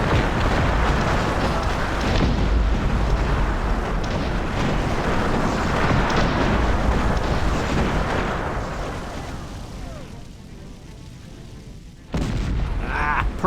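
Cannon fire in the strategy game Cossacks: Back To War roars as a loud, continuous battle din of booms and blasts, thinning toward the end before one more sharp burst.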